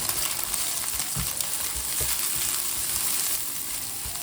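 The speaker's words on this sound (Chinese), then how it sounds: "接着倒入青豆，簡單翻炒幾下。" Green peas stir-fried with scrambled egg in hot oil in a wok, loud dense sizzling with a few scraping thumps from the spatula tossing the food, close and continuous, no voices.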